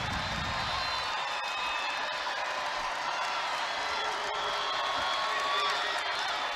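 A women's college basketball crowd in a Madison arena, Nebraska against Wisconsin, roars in a steady, dense wall of cheering and clapping after a tying three-pointer, with a commentator talking over the noise.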